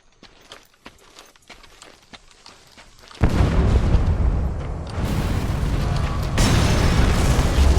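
A separator tank blows up in a video game: soft scattered footsteps and clicks give way to a sudden loud boom, then a sustained roaring rumble that swells again toward the end.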